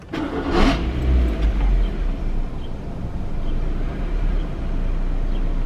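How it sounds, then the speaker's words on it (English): Suzuki Swift fitted with a performance air filter cranks briefly and fires up, flares in a short rev, then settles into a steady close idle. "so let's start my car"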